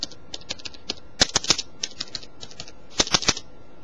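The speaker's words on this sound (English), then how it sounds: "You can type, you can see the keys are not hugely loud, they're actually quite a low profile type of key." Quiet clicks come from low-profile keys on a miniature game controller keyboard, irregular light taps with a few quick bursts of several strokes, close by and with no talking.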